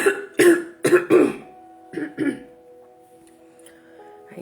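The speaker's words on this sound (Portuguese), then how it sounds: "Ainda na tosse?" A woman coughs and clears her throat in a quick burst of four harsh coughs, then two more a moment later, close and fairly loud over a faint steady hum.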